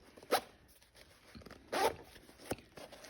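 A zipper is pulled open on a VERTX sling pack in three short, rasping bursts close by, separated by brief pauses of quiet handling.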